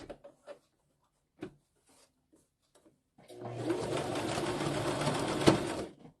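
Sewing machine stitching along the edge of fabric for a journal project; after a few scattered taps and clicks, the motor runs in one steady, close whirring burst of about three seconds.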